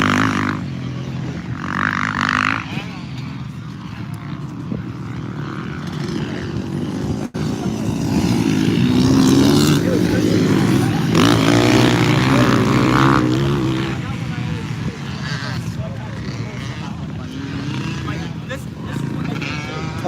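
Motorcycles ride past on an evening road, a droning engine roar that swells to a loud pass in the middle and then fades, with people talking throughout.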